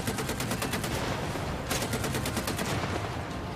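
Twin quick-firing Oerlikon KDA cannons on a high-tier self-propelled anti-aircraft gun in War Thunder, a dense unbroken stream of rapid shots with a sharp burst midway, loud and continuous throughout.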